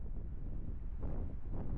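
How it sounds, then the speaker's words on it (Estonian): Wind blows steadily across the microphone on a hilly, mountainous seashore, a close, low rumbling buffet lasting under two seconds with slight gusts and no talk. "Mägine ala tuult on hästi palju"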